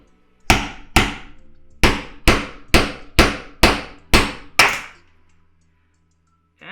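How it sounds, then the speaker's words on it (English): Nine sharp metallic hammer blows strike a chisel against rivets on a bus during a skoolie conversion, evenly spaced about half a second apart, close and loud, then silence. "now I'm taking the chisel and I just hammer it down until it's completely removed"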